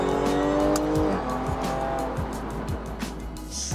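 A 2019 Jaguar F-Type Checkered Flag with an 8-speed ZF automatic drives hard, its engine a loud, continuous close drone whose pitch climbs and shifts through the run, with a touch of tire noise.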